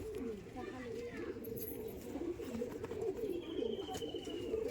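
Soft, repeated cooing of pigeons, steady and close, with a few faint chirps and some background noise throughout.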